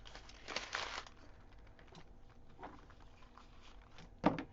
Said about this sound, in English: Did you crumple the ones you read?